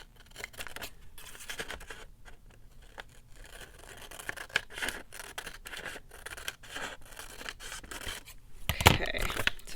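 Large scissors snip steadily through material up close, a run of crisp, uneven cuts and scrapes at low level with no talking, ending in a brief louder rustle.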